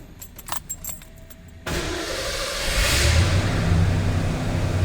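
A 1990 Ford F-150 XLT Lariat 4x4 with a 5.0 liter V8 cranks and catches after a jingle of keys, then settles into a loud, steady idle close by.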